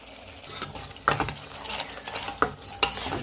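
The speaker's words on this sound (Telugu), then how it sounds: "పేస్ట్ అనేది బాగా ఫ్రై చేసుకున్నాం కదండి కారం పసుపు అన్నీ వేసేసుకున్నాం" Spice paste frying in a pan with chili powder, turmeric and rock salt, a close crackling sizzle broken by several sharp stirring clatters of a spoon against the pan.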